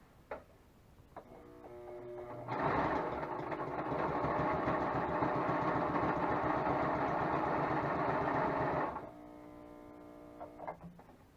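Domestic sewing machine stitching along a curtain skirt seam with a faulty foot pedal, a loud steady mechanical whir for about six seconds, with quieter pedal-driven motor hum before and after.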